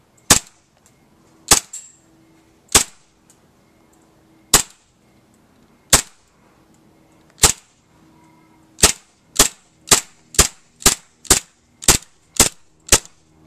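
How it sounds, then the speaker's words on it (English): Socom Gear M1911 airsoft pistol firing with blowback, giving sharp, loud cracks: a few spaced single shots, then a quicker run of about ten evenly paced shots close by. "so now we're gonna go on and shoot this and reveal the blowback on this weapon"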